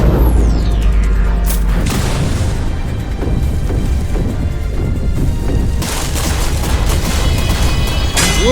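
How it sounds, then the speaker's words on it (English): A Cuban missile attack in a video game, opening with a descending whistle and then a loud deep boom followed by a run of rumbling blasts and crackling bursts. "Cuban missile."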